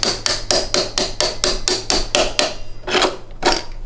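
A hammer strikes a scooter axle in a fast, steady series of about a dozen sharp, close metallic blows, pausing briefly before two final heavier hits.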